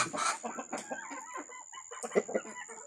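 Native and layer hens clucking close by on a rural farm, a busy run of soft, irregular clucks and short squawks from several birds over a faint steady background hum.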